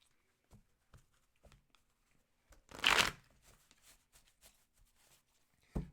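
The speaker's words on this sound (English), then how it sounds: "So let's shuffle the cards" Tarot cards are shuffled in one brisk riffle at close range, with a few faint card taps and handling noises before and after in an otherwise quiet room.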